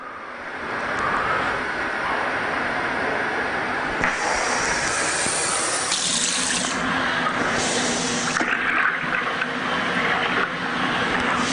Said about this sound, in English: About one more pitcher of cool water will probably do it.